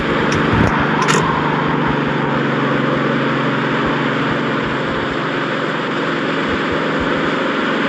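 A four-cylinder car engine runs steadily during a snow storm, a continuous loud broadband drone with wind-like wash over it and a couple of brief sharp clicks near the start, no talking.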